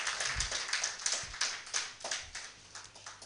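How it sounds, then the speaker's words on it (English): An audience at a community development project launch in Ghana claps in scattered, uneven bursts. The claps come one after another, fairly close, and sound thin and sparse, like a small group rather than a full crowd. "Please, I want us to give them a round of applause."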